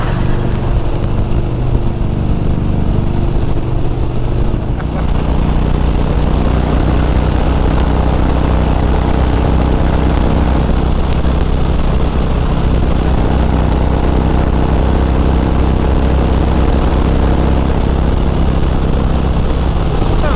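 Several motorcycles cruise at highway speed around 90 to 105 mph, with loud, continuous engine drone and rushing wind noise throughout, steady and close with no voices.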